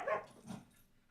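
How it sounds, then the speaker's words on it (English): A dog whimpering and giving a short bark while chasing her tail, one brief soft yelp followed by a faint whine, heard indoors at low volume. "That was my dog chasing her tail."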